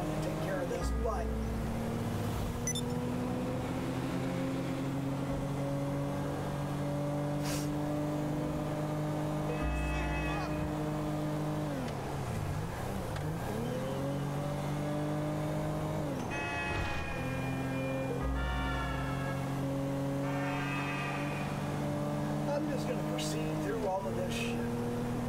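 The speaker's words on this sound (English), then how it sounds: "What I'm going to do here is I'm still using the car." Car engine in GTA Online droning steadily with pitch rising and falling as it accelerates and shifts, loud and continuous throughout, with a person talking over it.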